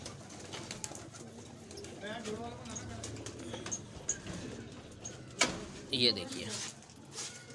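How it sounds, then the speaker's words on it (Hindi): Paired pigeons kept in pens in Karachi coo softly amid rustling and clattering, while someone speaks briefly over the quiet birdsound. "ये इनके जोड़ों वाले कबूतर हैं।"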